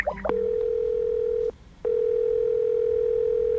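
A steady telephone dial tone hums while a call is being placed, loud and close in two long stretches split by a brief break, with nothing else alongside.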